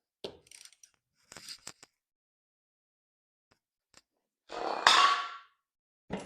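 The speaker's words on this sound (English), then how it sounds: "We'll crack those bolts off and see if we can get the whole motor off of this housing." Wrench work on 9/16 bolts of a 1970s EZGO electric golf-cart motor housing on a Dana-style axle: a few sharp metallic clicks and clanks, then one louder, rasping burst of about a second, with quiet pauses between.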